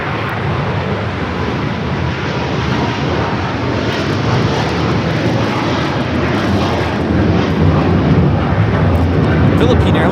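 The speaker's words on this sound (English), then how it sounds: "Philippine Airlines Flight 113 taking off to Manila on the 777-300ER." Philippine Airlines Boeing 777-300ER heavy jet taking off at LAX, a loud, sustained broadband engine roar that swells slightly as it climbs, with no break for the full length.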